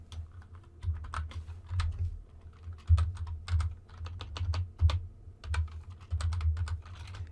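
Rapid, uneven keystrokes on a computer keyboard while HTML code is typed, with clustered bursts of clicks and brief pauses, close and moderately loud with no talking.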